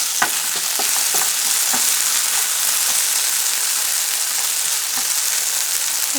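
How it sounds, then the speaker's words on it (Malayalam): Potato pieces fry in coconut oil in a pan for a Kerala-style dish, giving a steady, dense sizzle with scattered pops and occasional stirring clatter, close and unbroken throughout. "അപ്പോൾ ഇടയ്ക്കൊന്ന് ഇളക്കി കൊടുത്തിട്ട് ജസ്റ്റ് ഫ്രൈ ചെയ്തെടുക്കാം."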